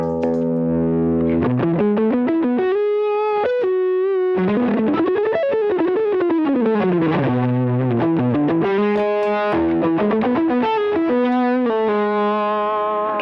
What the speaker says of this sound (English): a tone bender is a very smooth, really versatile type fuzz